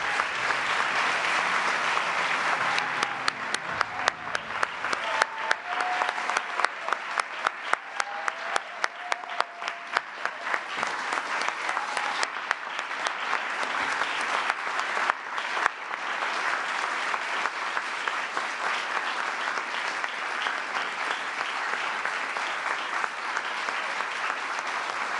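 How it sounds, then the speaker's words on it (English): A large audience applauds awardees at a formal ceremony, sustained dense clapping with crisp individual claps audible in the middle, continuing steadily at a consistent level for the full duration. "Please join me in a round of applause for all of our awardees."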